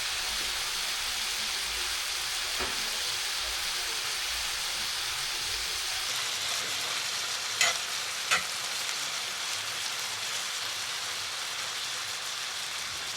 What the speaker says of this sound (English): Listen to the sizzle of that bacon.